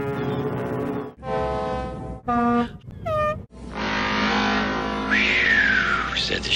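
Horn toots from boats in the Theodore Tugboat cartoon, several separate tonal blasts in succession with short gaps, followed by a longer sustained sound with a sliding pitch, loud and close.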